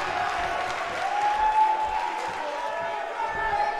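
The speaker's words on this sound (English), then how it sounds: "Lively, lively crowd." A lively crowd at an independent wrestling event in a small venue keeps up continuous cheering and scattered applause at moderate distance, with voices murmuring within the noise.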